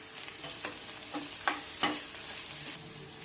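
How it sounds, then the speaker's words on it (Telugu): Onions frying in a pan with green chillies and crushed garlic for chamagadda pulusu, a soft steady sizzle broken by a few sharp stirring scrapes, close and moderately quiet. "ఉల్లిపాయలు కాస్త వేగాక 2 పచ్చిమిర్చి, దంచిన వెల్లుల్లి వేసుకోవాలి."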